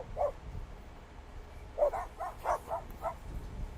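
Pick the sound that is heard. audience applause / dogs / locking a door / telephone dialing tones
dogs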